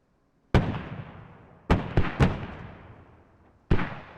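Mortar rounds land in a multiplayer battle in the video game Squad, at Yehorivka. Four heavy booms strike a few seconds apart, two of them close together, and each rumbles and fades into a long tail.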